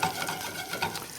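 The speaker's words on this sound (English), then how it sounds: "I've got a little bit of fresh sage and parsley, almost frying it in the butter." Fresh sage and parsley fry in butter in a pan, making a close, soft crackling sizzle with light stirring scrapes and no voices.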